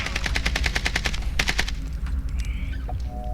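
Machine gun fire in a Warzone match: rapid bursts of automatic shots rattling off in quick succession, loud and close, then breaking off into quieter game effects.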